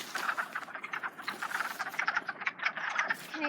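A chorus of wood frogs croaks from a vernal pool, rapid overlapping clucking calls forming a dense, continuous racket nearby.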